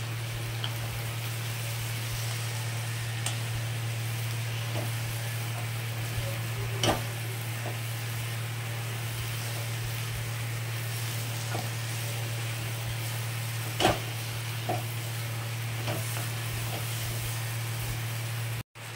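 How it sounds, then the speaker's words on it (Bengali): Spices and slit green chillies sautéing in a pan, giving a constant gentle sizzle with a steady low hum and a few scattered clicks from stirring, moderately quiet and alone. "দুটো কাঁচা লঙ্কা ফাটিয়ে দিলাম। দিয়ে কষাতে থাকবো।"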